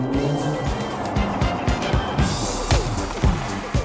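A Renault Clio Sport 182 drives along with a steady, loud engine and road roar, punctuated by rhythmic thumps and bumps of a hard ride, heard from inside the car with no talking.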